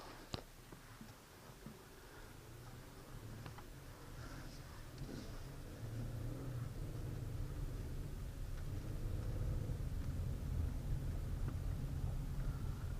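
A 2016 Chevrolet Colorado four-wheel-drive pickup drives over a very rough road, its cabin filled with a steady low engine and road rumble that grows louder partway through, with scattered small rattles and knocks.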